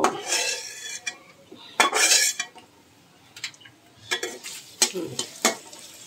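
Onions sizzling in a pan as a utensil stirs and scrapes against the metal in short irregular bursts, with a quieter background sizzle between the clatters while radish curry with puti fish is being cooked.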